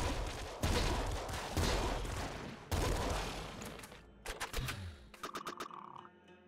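Rapid gunfire from the video game Nuclear Throne, dense bursts of loud synthetic shots for several seconds, then scattered electronic blips and a brief tonal chime as the shooting tapers off.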